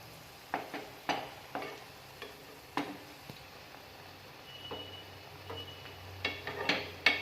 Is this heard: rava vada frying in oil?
yes